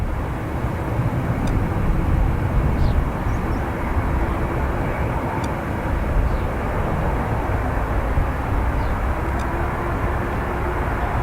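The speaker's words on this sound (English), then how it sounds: "Our last one will be the AA Dreamliner to Philadelphia." An American Airlines Boeing 787 Dreamliner departs Dublin Airport, its jet engines giving a sustained, loud, broad roar that holds steady from start to finish.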